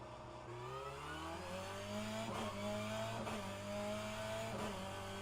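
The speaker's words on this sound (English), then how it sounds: "And now you guys have proper engine sounds." A BMW 330i M Sport BTCC race car engine in rFactor 2 revs up through rising pitches, shifting gears several times with brief dips, loud and continuous with no talking.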